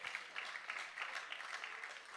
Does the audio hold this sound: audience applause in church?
yes